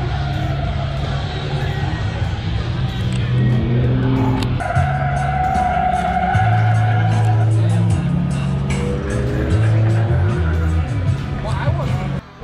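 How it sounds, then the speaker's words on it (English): A Ford car drifting at a car show, its tires squealing in long sustained screeches over a revving engine, loud and continuous amid crowd chatter. "let's go catch the Ford drifting."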